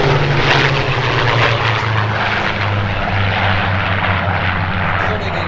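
Supermarine Spitfire fighter planes with uprated engines fly in formation at the Sywell airshow in 2024, their propeller engines giving a loud, steady, continuous drone that fills the whole stretch with no talking.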